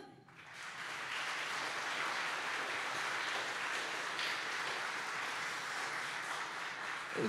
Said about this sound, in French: C'était passionnant, on peut les applaudir.